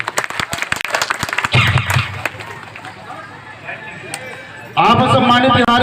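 Audience applause and clapping at a public gathering where donors are honoured, a dense burst of claps in the first seconds before a speaker's amplified voice takes over.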